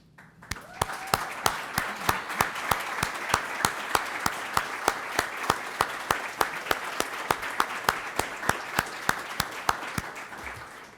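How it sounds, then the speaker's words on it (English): Applause fills a hall of fame ceremony, a broad wash of clapping with sharp, regularly spaced louder claps standing out in a steady rhythm throughout, fairly moderate in level and with no talking over it. "so that we can jointly give you some applause"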